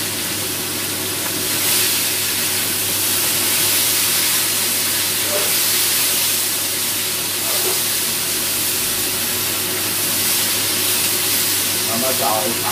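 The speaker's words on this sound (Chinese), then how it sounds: "而家咧可以俾埋啲洋葱落去啦，俾埋啲蒜絲落去先" Onion and shredded garlic hit a hot wok while beef strips stir-fry with preserved vegetables, giving a steady broadband sizzle and hiss that holds for several seconds at an even level.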